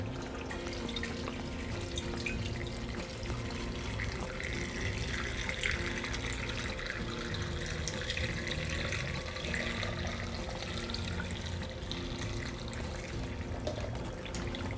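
Filtered water is poured steadily into a drink mixture, a continuous close stream filling the container with a full splashing rush that lasts throughout, with no voices.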